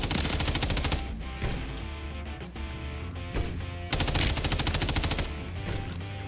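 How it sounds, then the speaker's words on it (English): Rapid automatic gunfire from a video game shooter rattles in dense bursts, loud and continuous with short pauses between volleys, no talk over it. "What is Jesus shooting at?"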